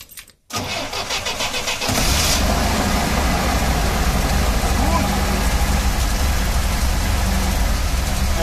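An old ErAZ bus engine cranks briefly with a rhythmic starter whir, catches, then settles into a loud, steady rumbling idle nearby.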